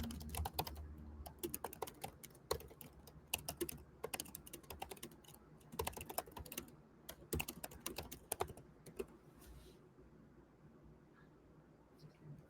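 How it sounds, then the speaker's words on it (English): Rapid, irregular clatter of keys on a computer keyboard, typed in bursts with short pauses, close and quiet, trailing off toward the end. "So the text I put in, start typing."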